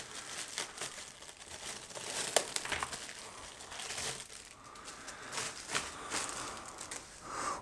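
Product packaging for an AVerMedia Live Gamer Extreme capture device being unpacked, plastic crinkling and rustling steadily at close range with occasional sharper tearing crackles, no talking.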